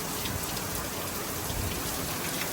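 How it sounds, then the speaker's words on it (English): Heavy soaking rain pouring down on a farm with bean and corn fields, a dense steady hiss of drops hitting surfaces, moderately loud and constant, no voices. "Good soaking rain for these beans, corn, everything."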